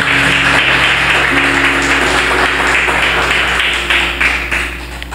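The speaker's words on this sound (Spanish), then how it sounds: "Yo le diera un aplauso a Jesús por eso." A church congregation breaks into dense, sustained applause during a sermon, with many hands clapping at once and a slight fade toward the end.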